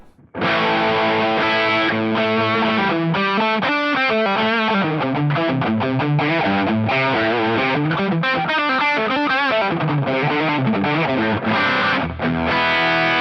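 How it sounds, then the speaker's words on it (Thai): A heavily overdriven electric guitar, a James Tyler Studio Elite HDX, plays a melodic line of sustained, buzzing notes, loud and continuous for the whole stretch. "มาฟังเสียงแตกกันครับ"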